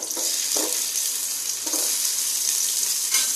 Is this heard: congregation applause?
no